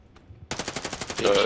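Rapid automatic gunfire from a Call of Duty hardcore match rattles out in a fast, even burst of about a dozen loud shots after a short quiet moment, ending in a harsher sustained blast with a faint tone.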